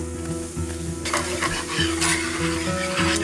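Flour being stirred into pork chop gravy in a skillet, with repeated scraping strokes and a light sizzle over gentle background music.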